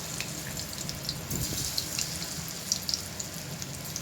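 Chicken pieces frying in a little oil for chili chicken, giving a steady, soft background sizzle with faint crackles and a few light kitchen clinks. Nobody speaks.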